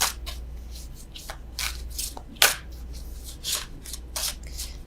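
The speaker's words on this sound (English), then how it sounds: "I don't know why I'm still shuffling these." Tarot cards shuffled by hand, a string of soft papery riffles and flicks coming in irregular bursts over steady low hum, close and fairly quiet, with no talking.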